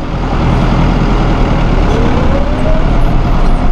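A 2001 New Holland TL100 utility tractor runs in third gear, high range, with a loud, steady engine drone and rumble that continues without break, close by.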